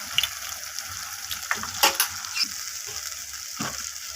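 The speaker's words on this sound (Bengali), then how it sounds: "তো সমস্ত কিছু মশলাকে এইভাবে নাড়াচাড়া করে কষিয়ে নিচ্ছি।" Ground spices fry in a pan for a bata fish curry while being stirred, giving a soft, steady sizzle broken by a few sharper scraping and clinking strokes of the spoon.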